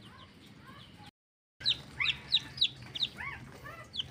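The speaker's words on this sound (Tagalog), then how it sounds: "nandito na po yung ating mga sisiw sa ating kulungan" Newly hatched baby chicks in a cage give repeated high, thin peeps and chirps at close range, with several sharp calls clustered in the second half after a brief silence.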